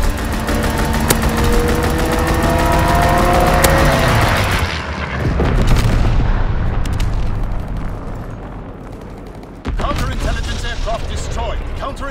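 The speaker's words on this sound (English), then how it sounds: "Strafing run inbound." Aircraft strafing run in the Call of Duty: WWII game, heard as dense rumbling engine drone and rapid gunfire bursts with explosions, loud and continuous, with game voice callouts over it.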